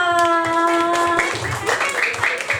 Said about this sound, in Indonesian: Coba dong tepuk tangan buat kita semua